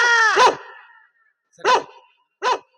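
Three barks from a dog close by: a drawn-out whining first bark, then two short sharp barks separated by pauses.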